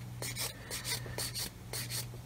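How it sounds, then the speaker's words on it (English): Sanding sprue nibs off Tamiya 1/16 RC Sherman tank kit parts: short, soft scratchy strokes repeating in quick bursts, close and faint, with no talk. "you watching me sanding sprue nibs is probably a bit much"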